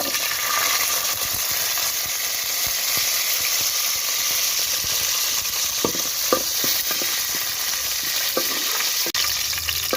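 Fenugreek seeds and garlic frying in hot oil over a wood-fired stove, a continuous close sizzle with scattered stirring scrapes and a few sharp knocks, no talking.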